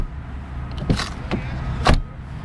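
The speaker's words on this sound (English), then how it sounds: "Even simple things such as closing the door have quite a soft touch to them." Door of a 2012 Acura TL SH-AWD being closed softly, a few short dull thumps and light clicks close by in a quiet cabin, with a faint sticking sound from the door sill's protective cover.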